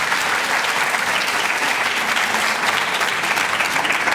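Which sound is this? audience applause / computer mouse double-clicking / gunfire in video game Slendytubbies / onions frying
audience applause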